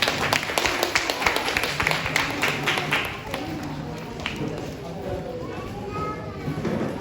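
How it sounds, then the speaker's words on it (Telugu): A group of people claps hands at a family gathering, a lively patter of claps for about three seconds that fades into a murmur of voices and scattered taps. "అది అలాగే చప్పట్లు కొట్టండి సార్ ఒకసారి."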